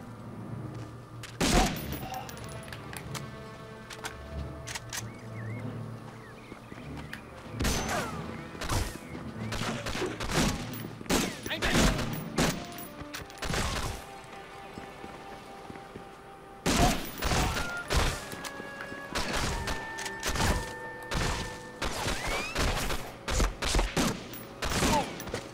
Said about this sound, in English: I swear there's a bloody machine gun nest up there.